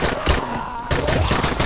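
Pistol shots in the video game Dying Light, a quick burst of sharp gunfire fired in rapid succession, loud and close.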